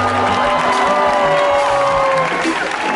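Concert crowd at a show in Braunschweig applauding and cheering loudly, a dense continuous roar with whoops and a melodic voice or tone over it.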